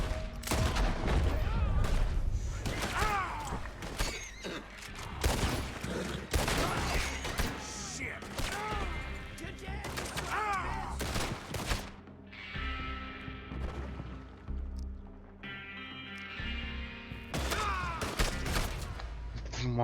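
Rapid bursts of gunfire in a Red Dead Redemption 2 shootout, repeated sharp shots crowding the first half and then thinning out, with clicking mechanical sounds and a steady game backdrop.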